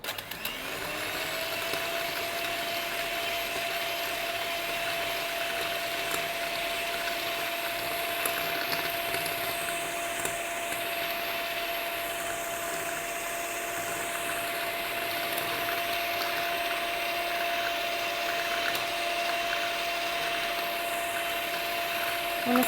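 A small electric whisk whirs steadily and loudly, whipping instant coffee into a thick foam for cappuccino, a continuous motor drone with slight pitch wobbles throughout.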